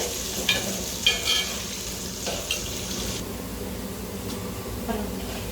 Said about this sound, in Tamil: பூண்டு எண்ணெயில் நல்லா பொரியணும்.